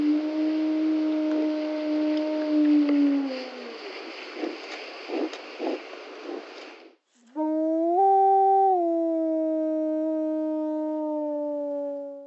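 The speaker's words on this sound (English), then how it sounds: "another type of howl that rapidly rises in pitch and then drops back down" Wolf howls, long tonal and harmonic: a first howl glides down and fades, then after a short gap a second rises, steps back down and holds steady for several seconds. Loud and clear, with no talk.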